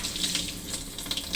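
Running tap water pours steadily as hands and a dishcloth are rinsed under it at a kitchen sink, a close, continuous hiss with small splashy fluctuations.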